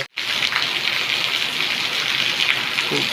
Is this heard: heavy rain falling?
yes